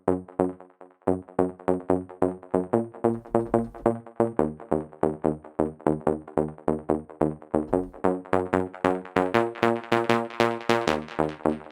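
A trance-style synth bass preset called Bass Right pumps in quick rhythmic stabs over a driving beat, each note swelling and cut short, building brighter toward the end.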